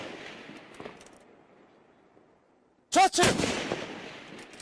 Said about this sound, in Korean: 거리별로 다양한 표적을 향해 정밀 조준 사격을 실시합니다